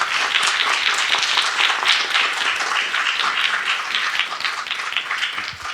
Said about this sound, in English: please give us a round warm of applause for ma'am